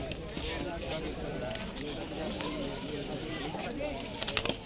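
Pigeons, including Madrasi pigeons, coo softly among a busy crowd at a pigeon market by Jama Masjid, with people talking nearby and occasional flutters and scuffles.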